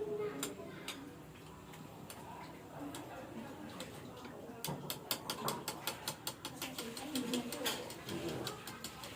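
Eggs beaten with salt in a bowl for nasi goreng, a fork or whisk tapping in a quick rhythmic series of clicks that grows denser in the second half, close against faint room noise.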